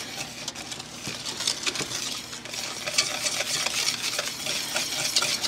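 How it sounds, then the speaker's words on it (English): A spoon or whisk stirs heavy whipping cream, cocoa and sugar in a bowl as a chocolate frosting base, making a steady, close scraping and sloshing rhythm that grows slightly louder, with no talking over it. "Mix it all together."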